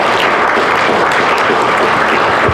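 Dense, steady audience applause at a high-level dialogue on stopping the war on children, a broad wash of many hands clapping loudly throughout, with no talk over it.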